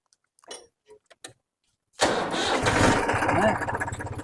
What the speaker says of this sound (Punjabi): ਆਪੇ ਦੀ ਸਟਾਰਟਿੰਗ ਦੇਖਦੇ ਆ ਟਰੈਕਟਰ ਦੀ